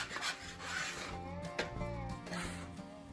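A plastic dough scraper rubs and scrapes close by as sourdough is rounded on a work surface, giving steady raspy friction strokes with no talk.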